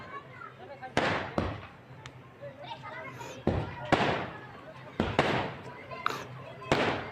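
Firecrackers bursting at a village celebration of Birsa Munda's birth anniversary near a temple, with sharp loud bangs going off one after another at irregular intervals over a background of crowd chatter and people talking.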